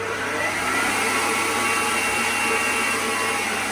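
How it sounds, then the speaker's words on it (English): An electric whisk beats cake batter with a steady, close mechanical whir that holds an even level and pitch throughout, with no talking over it. "Back on. Whisk it for a few more seconds."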